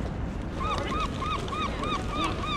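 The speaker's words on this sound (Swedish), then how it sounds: "Nu är vi omringade av fåglar, Alfons." Geese honk in a repeated series of close, loud calls at a Christmas market at Liseberg, with faint ambient noise underneath and no talking.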